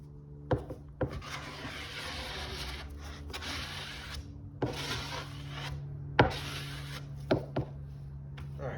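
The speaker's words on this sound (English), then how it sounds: "you take the other blade, just kind of clean everything up real nice" A blade scrapes fairing compound in repeated short strokes, each ending in a sharp knock, the rasping passes close and moderately loud over a low steady hum, with no talking.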